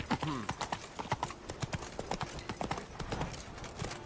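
A horse's hooves clip-clop steadily in The Witcher 3: Wild Hunt, a brisk run of close, crisp hoofbeats with a short whinny near the start and faint ambient game sound underneath.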